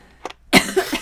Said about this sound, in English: I'm coughing.